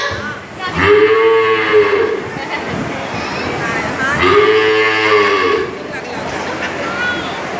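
Buffaloes low twice, each a long, loud, drawn-out moo with a rising and falling pitch, the calls a few seconds apart over a steady background rumble.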